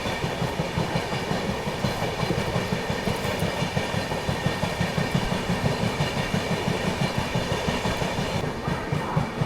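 The Dibrugarh Rajdhani Express rolls slowly past Anand Vihar station, with a steady rumble and a continuous, even clickety-clack of wheels over rail joints. The sound is close and loud and runs throughout without speech.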